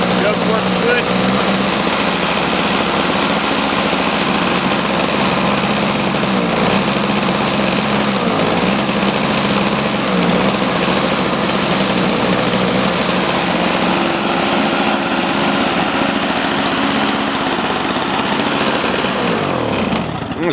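Toro CCR Powerlite snowblower engine running steadily after a repair, a loud, continuous high-revving small-engine drone close by for the whole stretch, with no pauses or talk over it.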